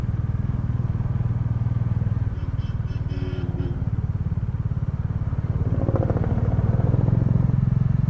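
A Bajaj Dominar 400 motorcycle engine drones steadily at close range while riding through traffic, revving slightly higher toward the end, with faint clatter and passing vehicle noise around it.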